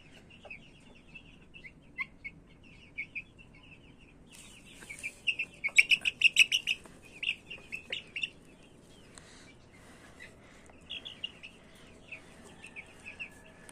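Month-and-a-half-old chicks chirp and cheep close by, in scattered bursts that thicken into a busy cluster of high calls in the middle before thinning out again.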